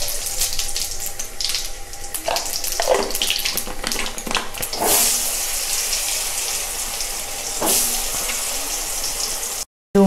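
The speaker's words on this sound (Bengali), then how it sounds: "এবার আমি কড়াইয়ে শুকনো লঙ্কা, তেজপাতা, শুকনো লঙ্কা এবং পাঁচফোড়ন দিয়ে দেব।" Dry red chillies, bay leaves and panch phoron hit hot oil in a kadai, giving a steady broadband hiss of sizzling with a few sharper crackling bursts, close and fairly loud, with no talking, until it cuts off abruptly at the end.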